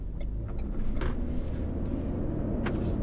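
Interior of a 2020 Ford Ranger Lariat 4x4 pickup driving over bumps, with a low steady road rumble and a few soft thumps as the suspension absorbs them, fairly quiet.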